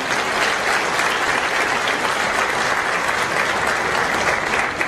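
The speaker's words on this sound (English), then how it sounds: "Please give applause to these people." Audience applause at the 2014 AIU graduation ceremony: a dense, steady wall of clapping from a large crowd, loud and continuous for about five seconds with no voices over it.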